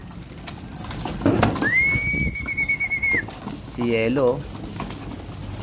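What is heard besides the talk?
pet pigeon cooing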